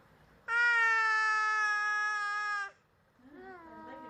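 A young child imitates a cat's meow with one long, loud, sustained mew, followed after a short pause by a softer, wavering second one.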